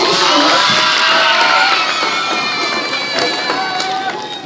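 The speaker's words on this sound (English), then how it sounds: "let's give Mr. Rose some applause" A school assembly crowd of children cheers and whoops for Mr. Rose, a dense, loud, sustained roar of shouting voices that runs unbroken throughout.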